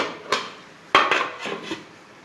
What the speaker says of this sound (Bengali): মাছগুলো দিয়ে এবার আমি ঢাকা দিয়ে দেবো।